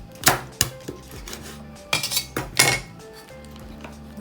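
A big knife chopping crab on a board, a few sharp close cracks and knocks spaced apart with quieter clinks between them, no talking.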